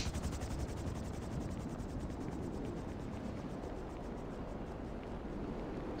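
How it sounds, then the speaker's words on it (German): A helicopter in GTA Online landing on a yacht gives a steady, continuous rotor whir and engine drone with a faint rhythmic chop, moderately quiet and heard alone. "Ich will jetzt hier den Heli landen."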